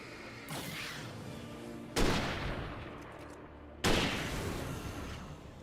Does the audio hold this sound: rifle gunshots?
yes